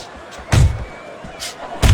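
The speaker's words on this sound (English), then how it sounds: "What a damaging blow." Heavy punches land in a Mike Tyson vs George Foreman boxing bout, three sharp thuds spaced across a couple of seconds over a low arena murmur.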